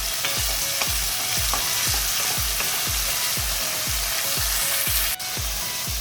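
Moong dal khichdi frying in a pan over low heat, stirred in a steady rhythm of roughly two scraping strokes per second over a constant loud sizzle, with no talking.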